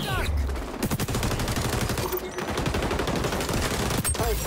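Gunfire in the online shooter XDefiant, dense rapid bursts of shots close and loud across the whole stretch with brief pauses, mixed with game effects.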